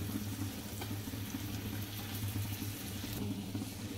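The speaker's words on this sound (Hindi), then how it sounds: "टिके पानी ऐड करदे" Water poured into curry in a cooking pot, a steady running and splashing liquid sound with a low hum underneath, continuous and fairly close throughout.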